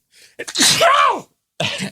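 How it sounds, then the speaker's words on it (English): A single loud sneeze up close, a quick sharp intake then an explosive burst, followed by a brief exhale. "I think I need to sneeze"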